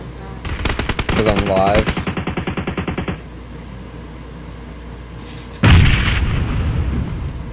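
Rapid automatic fire rattles in a mobile shooter game, a long loud burst followed by a second heavy volley a few seconds later, while someone talks briefly over it.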